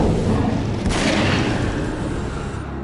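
Weapon fire in the video game Ghosthunter, a dense continuous roar of blasts with a brighter burst near the middle, loud and steady throughout with no talking.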